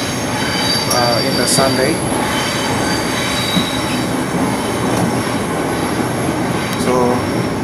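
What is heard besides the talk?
riding inside a moving train in Sydney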